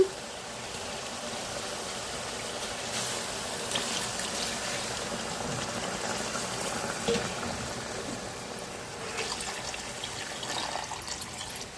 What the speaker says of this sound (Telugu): ఆయిల్ ఇప్పుడు వాటర్ వేసుకుందాం ఇందులో మనం